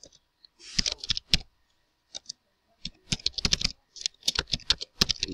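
Computer keyboard typing HTML code, bursts of crisp close key clicks separated by short pauses, irregular rhythm, no voices.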